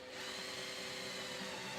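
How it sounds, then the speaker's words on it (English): A power drill bores a 25 mm hole through a caravan floor while a mover unit is installed, its motor whirring steadily and continuously, fairly close and with no talk over it. "Drill a 25 mm hole through the floor,"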